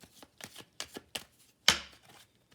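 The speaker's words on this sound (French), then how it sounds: "On va essayer de tirer d'autres cartes pour avoir d'autres" Tarot cards shuffled in several soft bursts, then one sharper riffle or snap as a card is drawn, close and fairly quiet with no talking.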